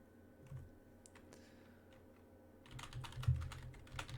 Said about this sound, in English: press the Windows key and R at the same time and type in